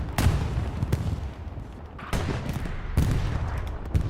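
Tank cannon and gunfire in a competitive Hell Let Loose World War II match, several sharp heavy booms spaced about a second apart, fairly loud against a battlefield background.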